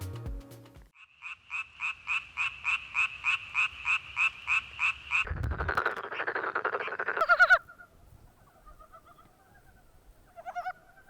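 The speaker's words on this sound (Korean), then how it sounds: "개구리 소리에 관심이 있어서" Frogs croak in the Korean DMZ. A steady series of about fourteen evenly paced calls is followed by a denser chorus and then scattered, more varied calls, clear and prominent against a quiet background.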